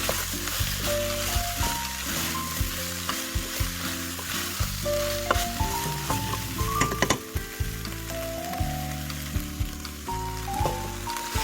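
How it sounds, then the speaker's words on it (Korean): Pan-roasted potato, zucchini, onion and Spam stir-fry in a hot pan for gochujang stew, with a loud, steady sizzle and frequent clattering as a utensil stirs and scrapes the pan, heard close up with no voices. "스팸도 넣고 볶아주세요."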